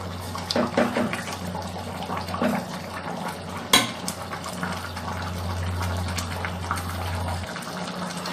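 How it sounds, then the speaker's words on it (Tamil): Kulambu curry of brinjal cooked in oil bubbles in a pot on the stove, a soft steady simmering gurgle with a low hum beneath and a sharp clink partway through. "இப்போ இது நல்லா கொதிச்சிருச்சு."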